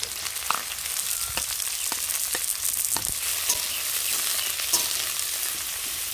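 Chopped onion dropped into hot oil with bay leaf, dried red chilli and a little cumin for egg tadka, frying with a steady close sizzle and occasional sharp crackles and pops throughout, no talking.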